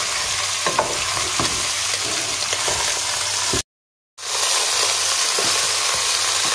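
Onions cooking with beef in a pan, caramelizing while the meat is turned, give off a steady loud sizzle and frying crackle with stirring, broken by a brief silent gap partway through.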